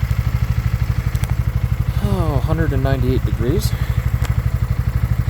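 A BMW C400X scooter engine idles with a steady, rapid putter throughout, while a person speaks briefly over it near the middle.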